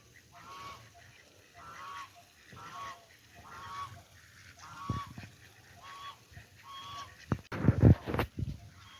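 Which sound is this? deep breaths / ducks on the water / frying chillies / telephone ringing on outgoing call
ducks on the water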